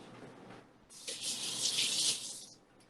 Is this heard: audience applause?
no